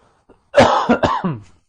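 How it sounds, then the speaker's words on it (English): Several quick, harsh coughs from a throat tickle, in a row, close up and loud, with a brief breathy catch just before them. "It's never a real cough. It's just a little throat tickle."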